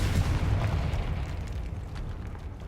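A Confringo fire spell explodes in Hogwarts Legacy inside a tomb, making a loud, dense, close booming blast that fills the whole moment with a sustained rumbling roar.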